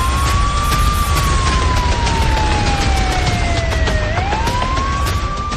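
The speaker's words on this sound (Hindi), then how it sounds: "कीव में रात भर सायरन बजते रहे।" Air raid siren wailing over Kyiv at night during a missile attack, a single loud continuous tone slowly falling and then rising again, steady and unbroken over a dense background rumble.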